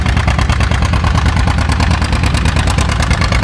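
An Agco Allis tractor engine with a true dual exhaust splitter runs steadily at a tractor pull show, a loud, close, rhythmic low chugging throb with no one talking.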